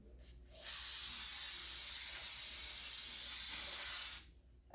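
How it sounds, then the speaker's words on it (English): Baking spray greases a cake pan for a pumpkin sour cream coffee cake: a brief spurt, then one long, steady, close hissing spray lasting several seconds before it cuts off. "So first they want us to grease our pan, so I'm gonna use some of the baking spray"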